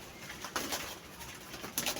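Soft pigeon coos repeat a few times close by, low and throaty, with faint fluttering and background rustle between them.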